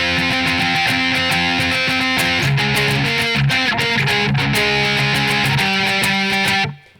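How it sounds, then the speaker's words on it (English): Distorted electric guitar playing the lead part of a song, a loud, dense repeating riff of sustained notes, close and alone, that cuts off sharply at the end. "the lead part that you hear sounds kind of like this"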